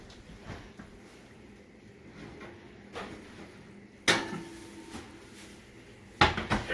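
Meatloaf pans come out of a home oven with two hard metallic clunks in the latter half, after a stretch of soft, quiet kitchen shuffling; no voices.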